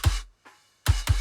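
A snare drum from a poorly recorded metal kit, captured with a bottom mic, cracks in a few sharp hits with a buzzy rattle, one softer hit between, close and isolated.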